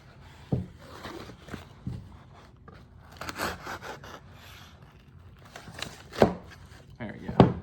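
A knife cuts through super hot peppers on a board, with scattered sharp chops and scraping strokes, a few louder knocks near the end, and faint rustling in between.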